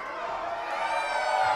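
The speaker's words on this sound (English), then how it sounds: "And the crowd is erupting." Wrestling crowd at a local pro wrestling event in Nanaimo cheers and shouts together, a sustained, fairly distant roar that swells slightly toward the end.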